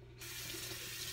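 A water tap runs steadily into a sink to wet a small sponge, a close continuous splashing hiss that starts abruptly and continues alone.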